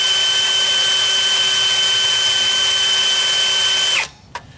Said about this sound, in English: Main thing is you don't want to get too hot on this because your drill bit's going to dull really quickly then.